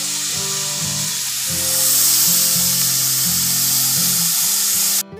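Banana stem (thor) sizzles steadily in a hot pan, a dense hiss that swells slightly and holds for about five seconds over a melodic tonal backdrop, cutting off abruptly at the end.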